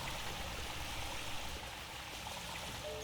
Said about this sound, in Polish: Zdaje mi się, że przechodziliśmy obok tego strumyczka.